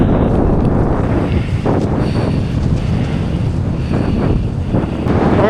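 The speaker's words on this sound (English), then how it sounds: "Alright, good little gust." Loud, continuous wind buffets the microphone while parawinging on open water, a roaring rush with surging gusts and faint splashy texture, no voices.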